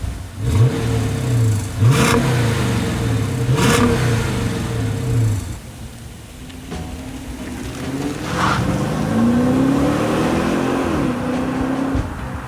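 A 5.7-liter Hemi V8 engine in a former police-pursuit Dodge Charger revs hard several times, the roar rising and falling in bursts before settling into a deep, steady rumble with another climbing rev near the end.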